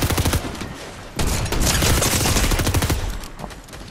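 Gunfire in Fortnite: dense, rapid automatic bursts, loud and close, a brief gap, then a sustained fusillade of rattling shots continuing to the end, with no talk.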